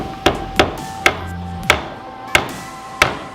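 A homemade staple is hammered into a baseball bat with six sharp, evenly spaced metallic strikes, each a loud close crack with a brief ringing tail over a faint steady background hum.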